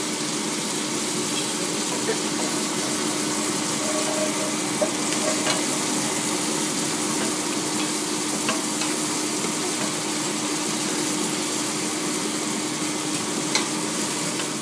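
Shiitake mushroom and butternut squash risotto is stirred in a hot cooking pot, giving a steady, close sizzling hiss with soft scraping that runs unbroken throughout, with no voices.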